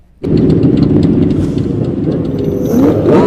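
Loud, close engine roar from motorcycles at a meetup getting ready to leave, starting abruptly and holding steady, with several motors rumbling and revving together and no talking.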